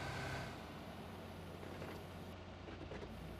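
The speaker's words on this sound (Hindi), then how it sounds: "फिलहाल तो इस गाड़ी को यहीं छोड़ते हैं और आगे पैदल बढ़ते हैं, क्योंकि तो गाड़ी का शोर ज़्यादा होता है" A vehicle engine in the PUBG video game produces a low, steady, fairly quiet rumble that holds evenly throughout, with no talk.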